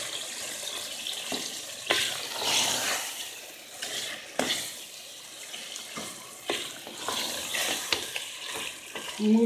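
Radishes fry in a pan, a steady sizzle broken by scraping bursts of stirring every second or two, close and fairly loud, with no talk.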